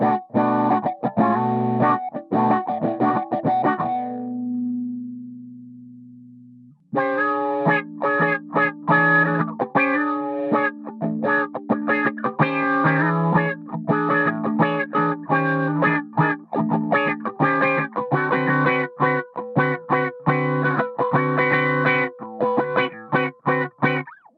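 A PolyEffects Beebo multi-effects pedal sends a guitar through distortion and chorus, giving loud, sustained chords and choppy rhythmic strumming. A short stretch of held low tones sits in the middle, and no voice is heard.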